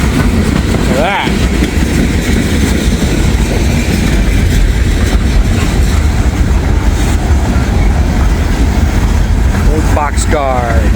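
A freight train rolls past with an old boxcar, a loud steady rumble of wheels and clatter filling the clip, with brief squealing tones near the start and end.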